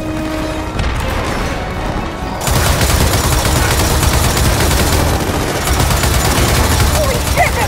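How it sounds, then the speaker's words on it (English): Sustained mounted turret fire in Gears of War 4, a loud, continuous fusillade of rapid shots with booming impacts that grows denser partway through, with battle noise throughout. "Someone mount that turret and throw some hell down there!"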